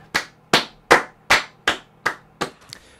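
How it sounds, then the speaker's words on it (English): Slow, evenly spaced hand claps, seven or eight sharp strikes roughly half a second apart, close and fairly loud with no other sound. "This should be applauded literally."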